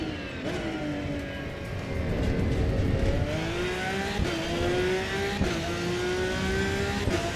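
A race car engine in the Assetto Corsa EVO racing game drones loud and steady, its pitch climbing through several gear changes, with brief dips at each upshift.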